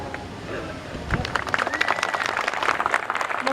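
An audience at an outdoor Renaissance fair birds-of-prey show breaks into applause, the clapping swelling after a second and continuing as dense, sustained crowd clapping, with voices mixed in.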